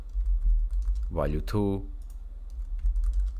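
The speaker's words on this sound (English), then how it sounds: "if I start typing anything here" Someone types on a computer keyboard, a quick run of close clicks that continues under a person talking.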